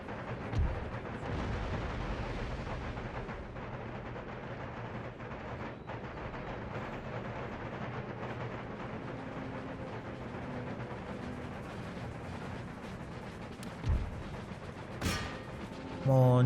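Dense battle noise from the video game Empire: Total War, with steady rumbling and scattered booms, a few sharp artillery cannon blasts standing out near the start and end.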